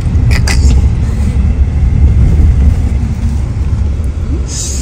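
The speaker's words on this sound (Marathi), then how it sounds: "ऑफरोडिंग शेतातून बाय शेतातून पूर्ण गाडी चालू" A car engine rumbles loud and close as the vehicle drives off-road through farm fields near Poladpur, bumping along rough ground, with steady low droning throughout.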